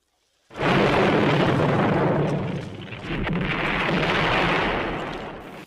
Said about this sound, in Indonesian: pemimpin pasukan itu lalu mengeluarkan senjata andalannya sebagai jalan terakhir untuk menghabisi Rambo.